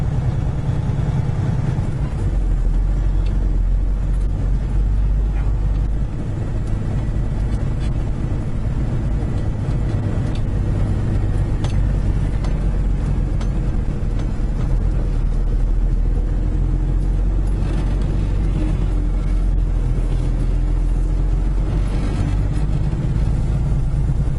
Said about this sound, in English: Lots of traffic this morning